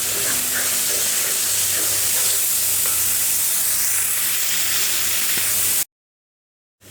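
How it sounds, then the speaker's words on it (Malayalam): Tomatoes sautéing in oil for a Kerala-style cabbage stir-fry give a steady, close sizzling hiss with faint scraping of stirring, then cut off abruptly into silence near the end. "ആ എണ്ണ തെളിഞ്ഞ് വരണവരെ വരെ നന്നായിട്ട് വഴറ്റി കൊടുക്കാം"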